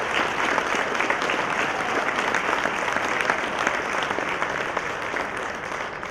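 Steady audience applause for a group being honored at a State of the City event, a continuous even roar of many hands clapping at a consistent level, with no voices.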